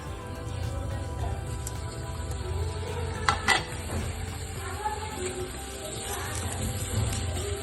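Prawns stirred into a simmering yogurt gravy, the oil separating, with a steady low sizzle, scraping stirs and a couple of sharp utensil clinks against the pan near the middle.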